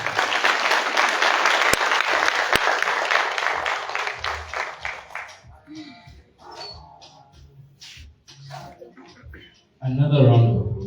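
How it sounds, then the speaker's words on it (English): Loud, dense audience applause at a school orientation session rises and holds for several seconds, then thins out and fades as a speaker begins talking nearby. "Another round of applause"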